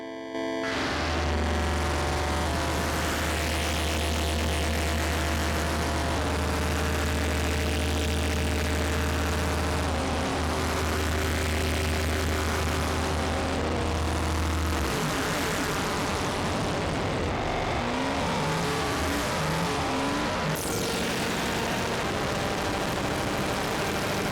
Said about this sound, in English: There's some really lovely feedback stuff there